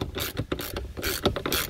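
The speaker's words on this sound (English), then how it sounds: "tighten it back down with the good old 21 millimeter" Close, rhythmic ratcheting from a wrench fitted with a 21 mm socket as it tightens the steering column nut on a Jeep Grand Cherokee, with quick clicking bursts repeating steadily and no voices.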